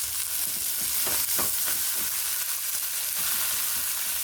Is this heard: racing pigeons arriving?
no